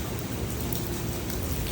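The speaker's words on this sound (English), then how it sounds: "So it's bucketing down rain." Heavy rain pouring down outdoors, a dense, steady hiss of drops striking surfaces with no other sounds over it.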